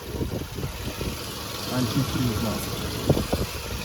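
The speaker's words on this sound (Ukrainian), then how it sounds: "Послухаємо, як працює двигунчик." A Volkswagen Golf Plus 1.6 MPI petrol engine idles with a steady low rumble close by, while someone talks over it.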